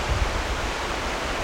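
A river rushing below a hidden mountain town in Albania, a dense, even hiss of flowing water with a low rumble, steady and moderately loud with no voices.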